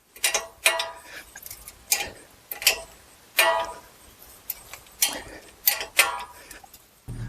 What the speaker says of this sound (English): we'll use this to ratchet this bolt in